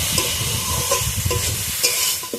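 Small river fish fry in spice paste in a pan, with a loud, close, continuous sizzle and occasional bubbling pops, no speech.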